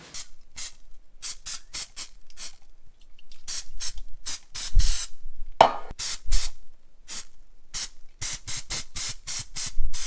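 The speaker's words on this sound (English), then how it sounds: "I'm gonna spray this down with some Pam" Repeated short bursts of Pam cooking spray onto a pan, hissing in quick irregular pulses, some longer blasts, close and fairly loud with brief silences between.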